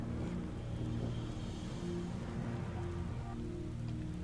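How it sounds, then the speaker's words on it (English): Rain falls in the Final Fantasy XIV game world, a steady, moderately quiet patter over a low droning ambient backdrop. "Oh great, now it's raining."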